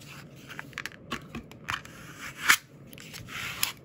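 Scissors cut through thick paper while a small vintage pouch is being made, a series of crisp snips and crunches at an uneven pace, close and quiet.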